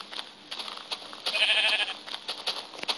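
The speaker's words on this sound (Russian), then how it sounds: "вот еще одна овца маленькая" A small Minecraft sheep bleats once, a wavering nasal cry in the middle, with soft game-like ambience and faint clicks around it.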